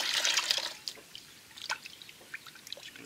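Water sloshes and drips as a raccoon tail is rinsed in a salt water bath, a splashy burst at first, then scattered trickles and drops nearby.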